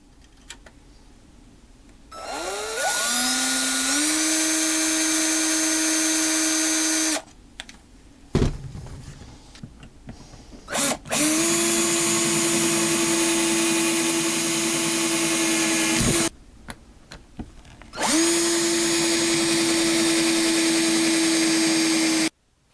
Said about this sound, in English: very lightly take the drill and just lightly mark the 2 spots through the 2 holes there